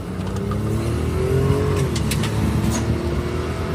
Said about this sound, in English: Let's see what the takeoff speed on this one is compared to the other one.